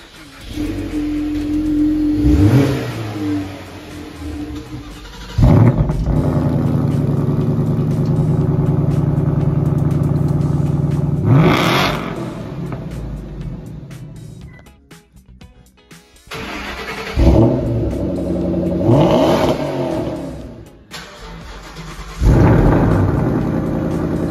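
Several Ford Mustang 5-liter GT V8 engines start and rev one after another, loud and close: deep rumbling idles broken by sharp throttle blips and a few sustained revs, with no talking.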